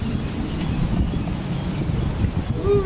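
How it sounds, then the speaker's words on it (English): Wind buffets the microphone during a bike ride around a residential block, a continuous low rumbling roar with gusty swells, and a faint voice and a brief high tone near the end. "Ooh, it's breezy."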